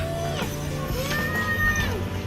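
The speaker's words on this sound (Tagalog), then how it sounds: "Pusa ba yan? Kanina ko pa nakita. Pusa yan guys." A cat meows faintly several times, thin rising and falling calls over a steady hum of traffic and background noise during sightseeing near a van.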